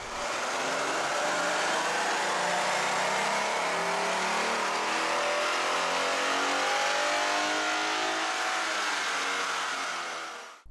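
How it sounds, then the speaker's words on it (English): A 3.7-liter V6 in a 2011-2014 Ford Mustang revving hard on a chassis dyno, a loud sustained rising roar that climbs in pitch over about ten seconds before cutting off abruptly, with no voices. "Let's start with the baseline dyno run."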